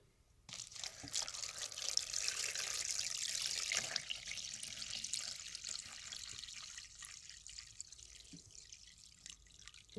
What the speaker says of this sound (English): So I'm going to put 2 liters of hot water there, like it says.